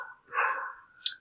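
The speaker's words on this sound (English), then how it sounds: "Sorry for the dogs barking" A dog barks once, fairly faint and somewhat distant, in a quiet room, followed by a brief higher yip.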